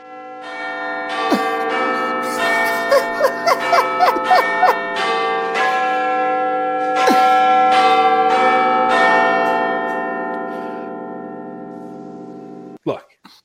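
A bell rings loud and close with long, sustained metallic tones and repeated strikes, fading out before a final sharp clang at the end.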